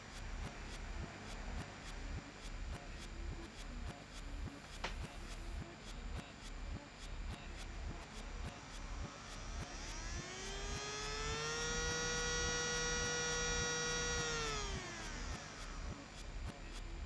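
A small DC motor driven through a TIP122 transistor speed controller, whining steadily under constant background noise, its tone sliding down and then back up as the speed is turned down toward minimum.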